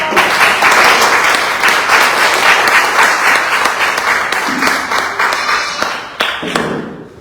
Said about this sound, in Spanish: Les damos la bienvenida con un fuerte aplauso.